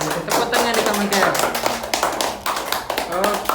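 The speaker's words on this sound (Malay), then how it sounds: "Tepuk tangan dekat Magat." Students in a class clap for a classmate, quick close taps and claps mixed with voices and chatter in the room.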